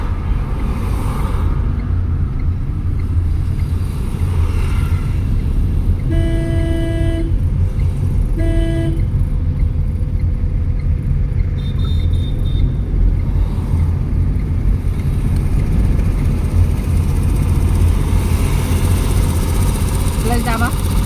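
A car engine drones steadily in second gear during a driving lesson, with brief horn-like tones partway through and voices talking over it.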